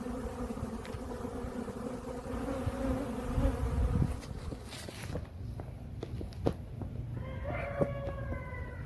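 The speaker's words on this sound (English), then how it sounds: "These are nice, calm bees." Honeybees buzzing around an open beehive, a steady close insect drone with scattered bees flying past, some rustling and handling noises, and no talking.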